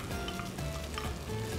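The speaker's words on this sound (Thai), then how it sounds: "เราผัดให้เครื่องแกงแล้วก็ไส้กรอกไก่" Sliced chicken sausage is stir-fried with Thai curry paste in a pan, giving a steady close sizzle with occasional stirring scrapes and no talking.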